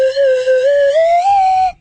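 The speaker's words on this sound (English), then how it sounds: "a much better slide whistle" A slide whistle in need of grease plays one sustained tone that glides slowly upward in small steps, loud and close, with no talking.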